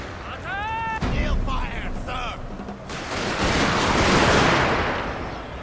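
Massed rifle volleys and artillery-like booms rumble across a battlefield in Shogun 2: Fall of the Samurai, rising into a dense roar after voices talk briefly at the start.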